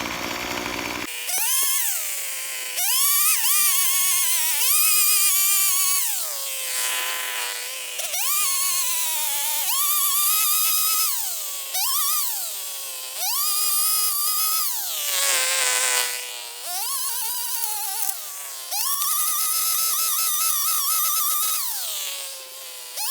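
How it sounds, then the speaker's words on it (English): An electric lawn edger cuts along turf edges for a lawn-restoration job, its motor whining loudly and rising and falling in pitch with each pass as the blade bites into soil, repeated in steady strokes with short dips between. "with the new edger and get everything nice and trimmed out"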